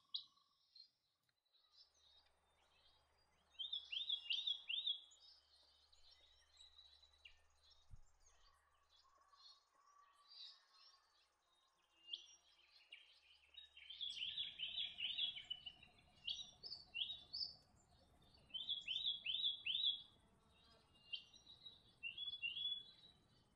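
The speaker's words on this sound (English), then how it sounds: "Small flocks of red-browed finch are commonly seen in the New England." Red-browed finches give repeated high, thin chirping calls in short clustered bursts, near and clear over a quiet outdoor background with faint insect hum in the later part.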